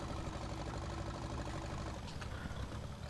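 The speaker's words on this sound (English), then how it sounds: "it's such a good tractor" A grey Massey Ferguson tractor engine idles steadily in Farming Simulator 19, a constant low mechanical drone that stays loud and unbroken throughout with no talk over it.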